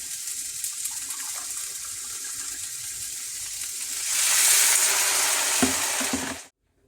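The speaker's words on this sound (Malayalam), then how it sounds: "ഇനി ഇതിനകത്തേക്ക് നമുക്കൊരു അരക്കപ്പ് വെള്ളം ഒഴിച്ച് നമുക്കതൊന്ന് വേവിച്ചെടുക്കാം." Crab curry sizzles steadily in the pan, then half a cup of water is poured in, briefly raising a louder hiss and bubbling before the sound cuts off.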